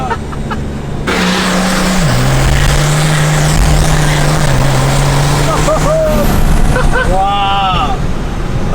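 A 700 HP Cummins diesel truck on line lock in Las Vegas roars through a loud, sustained burnout, engine droning steadily with tire-spinning noise, with a voice and a brief whoop near the end.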